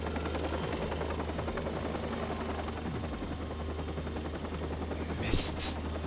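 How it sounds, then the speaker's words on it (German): Helicopter in the video game Watch Dogs, a steady low rotor drone running loud throughout with dense game action layered over it, including sharp bursts that suggest gunfire near the end. "Der Heli."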